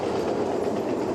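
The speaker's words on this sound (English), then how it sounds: "That's the train, ladies and gentlemen, that's rolling through the tracks here at Calhoun." A train rolls along railroad tracks at Calhoun in a steady rumble with faint rhythmic clatter of wheels, brief and continuous, with no talk over it.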